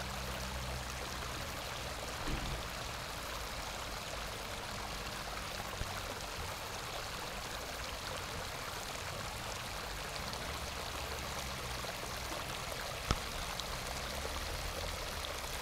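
Torrents of flood water from a water company's supply rushing down a city street in Luhansk, a constant broad gushing roar with a few faint knocks, no talking.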